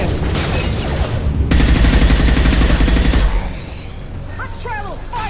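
Sustained rapid gunfire from a combat turret in the video game Mass Effect 2, loud and dense for a few seconds before cutting out, leaving quieter game sounds and chirpy effects.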